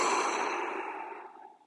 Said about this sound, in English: So nice deep belly breaths.